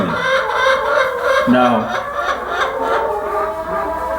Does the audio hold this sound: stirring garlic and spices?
no